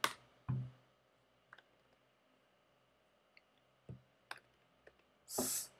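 Sparse clicks of typing a terminal rm command on a computer keyboard, a few isolated keystrokes spaced out over quiet background, ending with a longer burst of noise.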